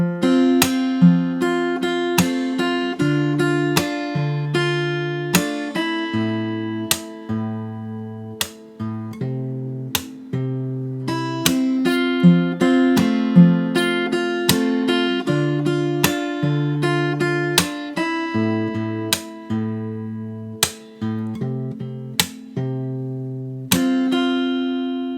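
Fingerstyle guitar plays the whole verse of a song in a steady, unhurried arpeggiated pattern of plucked notes and ringing chords, close and solo with no voices.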